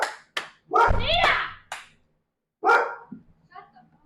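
A dog named Chanel barks a few sharp times close by during a lively tabletop game session, with people shouting and talking over and between the barks.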